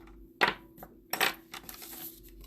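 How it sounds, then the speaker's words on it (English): A paper trimmer slices cardstock for a handmade faux shaker card. Two sharp, close clicks of the blade sound in quick succession, followed by a softer scraping slide, with no talking. "I'm going to just use my trimmer to trim that down"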